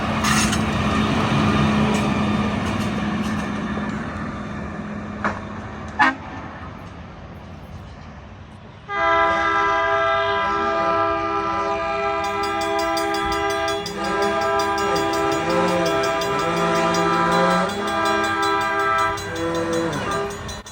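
Railroad maintenance-of-way equipment passes a level crossing. A steady rumbling pass is followed by crossing bells and a loud, sustained multi-tone horn blast near by, with a faint voice briefly heard.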